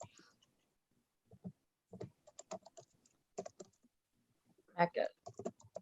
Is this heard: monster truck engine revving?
no